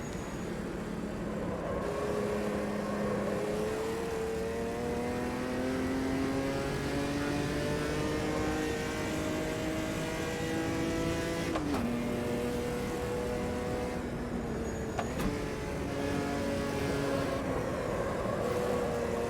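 A race car engine in the sim racing game Automobilista 2 drones continuously, climbing in pitch through the gears with two sharp upshifts, the steady in-car sound holding a constant loud level throughout.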